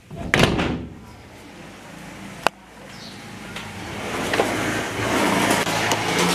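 A door is closed indoors in a Spanish home, a single sharp thud midway through, set amid quieter shuffling and handling noises with no speech.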